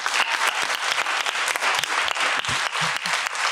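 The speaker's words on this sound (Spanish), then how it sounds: "Un aplauso." Loud, sustained applause fills a hall during a talk on relationships with fathers, the crowd clapping densely and evenly throughout.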